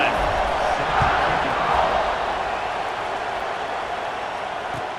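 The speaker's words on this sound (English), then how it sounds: "this crowd is feeling themselves after that last drive" A college football stadium crowd in EA Sports College Football 26 roars in a broad, continuous wash after a scoring drive at kickoff, loud at first and then easing slightly.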